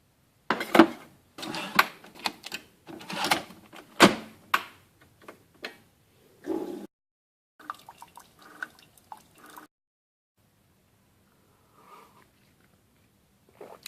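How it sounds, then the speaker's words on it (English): Coffee being made in a kitchen: a series of clinks, taps and drips from cups and a machine, close and fairly quiet, sparse irregular knocks thinning into near silence. "the first thing I need to do is make myself a coffee"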